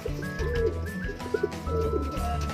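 Taiwan pigeons coo in repeated soft, throaty phrases over a low, steady background hum, close by and alone with no talking.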